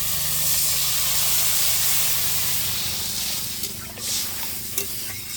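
Potatoes and slit green chillies frying in hot oil in a pan, a loud continuous sizzle and hiss with stirring scrapes, easing slightly toward the end.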